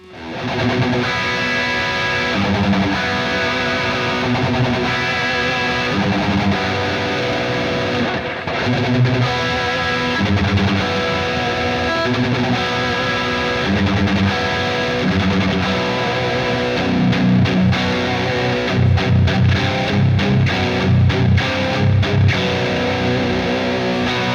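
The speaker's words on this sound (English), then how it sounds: "let's get some high gain tones out of both of these" An Ibanez AZ Premium electric guitar plays high-gain distorted tones, a dense, loud stream of saturated chords and notes with sustained crunch and some palm-muted chugging near the end, with no talking.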